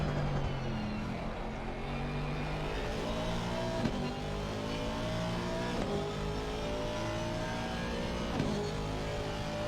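Onboard an Aston Martin race car during an endurance event, the engine drones steadily near and loud, with pitch swells and dips as it shifts through gears and changes speed.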